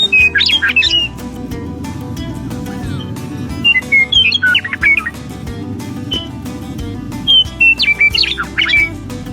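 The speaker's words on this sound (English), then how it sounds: "the western meadowlark is a beautiful sound in the morning" A western meadowlark sings loudly and close in the morning, its bursts of clear, warbling, flute-like phrases repeating every few seconds over a steady background with frequent sharp clicks.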